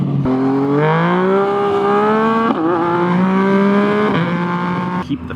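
A Yamaha FZ09 motorcycle accelerates hard through rising gear pulls with brief breaks between shifts and sharp exhaust pops, loud and close.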